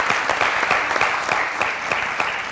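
Steady applause from a comedy TV show's studio audience, dense clapping sustained throughout at a fairly loud level with no voices on top.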